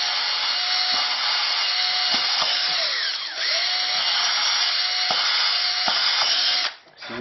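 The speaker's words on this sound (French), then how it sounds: "Donc je prends un forêt de 4 et je fais" A power drill with a 4 mm bit bores small holes, running as a loud, continuous high whine close by. The pitch dips briefly partway through, and the motor spins down near the end.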